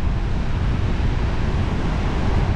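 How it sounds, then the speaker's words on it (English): Sea waves break on the Paphos coast in a steady, loud wash of surf, with wind noise rushing over the microphone throughout. No voices are heard. "More waves over here."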